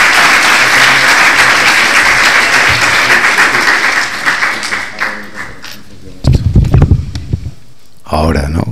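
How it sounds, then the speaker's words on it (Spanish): An audience at a retro event interview applauds loudly and steadily, the clapping thinning out and breaking into scattered claps and bumps near the end. "gracias por esos aplausos"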